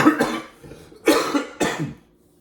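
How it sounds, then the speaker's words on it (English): Three loud, close coughs in quick succession, each a harsh burst trailing off, the last fading to silence. "the coughing is starting to piss me off"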